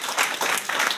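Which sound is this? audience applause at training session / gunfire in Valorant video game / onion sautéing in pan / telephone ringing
audience applause at training session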